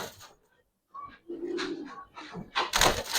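Giribaz pigeons in a cage give soft, low cooing calls close by, mixed with rustling and fluttering as the birds hop about, and a louder flurry of movement near the end.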